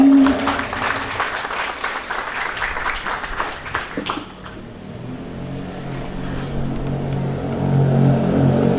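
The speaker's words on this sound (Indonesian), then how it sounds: "Boleh tepuk tangan yang meriah untuk para Bapak" Audience applause at a vocational high school graduation and farewell ceremony, a dense burst of clapping for about four seconds that thins out into a lower, steadier hum of the hall.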